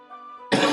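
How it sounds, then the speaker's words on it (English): A single short cough from a young woman in the visual novel Doki Doki Literature Club, a harsh, close burst coming right after a brief sustained tone, with no other sounds around it. "my gosh, this cough."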